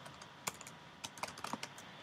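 A computer keyboard is typed on in a short, quiet burst of irregular key clicks, close by and alone.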